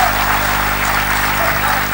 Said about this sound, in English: let's give a very warm round of applause for Suresh Menon,